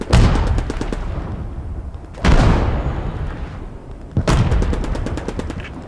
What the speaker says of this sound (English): artillery is coming